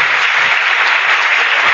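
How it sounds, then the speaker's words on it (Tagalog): Congregation at a church service clapping in praise, a dense, steady wash of many hands throughout the short stretch, with no talk over it. "Palapakan po natin ang Panginoon."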